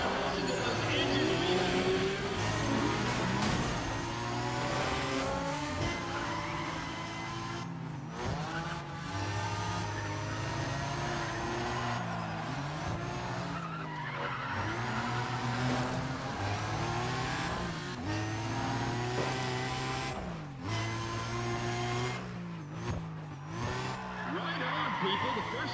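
Race car engines rev and drone in Need for Speed ProStreet, rising and falling in pitch with occasional tyre squeal, continuous and fairly loud with voices talking over them.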